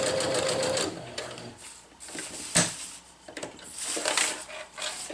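Sewing machine stitching reinforcement triangles on a tarp, a close whirring run of stitches that stops and starts in short bursts with fabric handling between, no talking.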